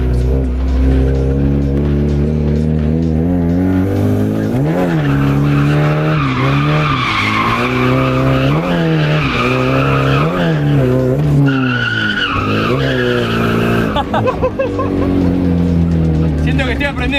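A car drifting at a track day, its engine revving loudly in rising and falling sweeps while the tires squeal and skid continuously, close and dominant throughout.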